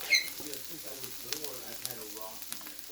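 Garlic frying in a pan gives a faint, soft sizzle with light stirring, heard close up under a quiet background, with a few brief clicks near the start.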